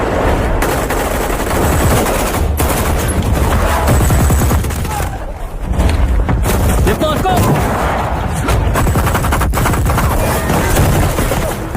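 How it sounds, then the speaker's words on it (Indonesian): Dense, sustained gunfire rattles continuously in a gunfight, rapid bursts and shots overlapping in a loud, chaotic exchange, with voices shouting faintly beneath. "menyebabkan baku tembak sengit antara mereka dan anggota Satgas"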